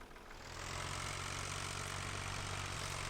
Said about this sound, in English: So I have got the little red tractor hauling grain to try and build us some money.